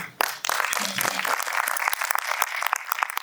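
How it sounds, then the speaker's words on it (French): An audience at a panel discussion on orientation and career change applauds, the clapping sharp and fairly close, with a brief vocal sound at the start. "Des applaudissements, s'il vous plaît"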